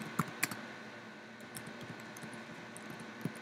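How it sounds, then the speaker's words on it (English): Someone types a command on a Mac computer keyboard, producing scattered soft keystrokes and a few sharper clicks, close and fairly quiet over a faint steady background hum, with no speech. "you're going to want to type in slash msg"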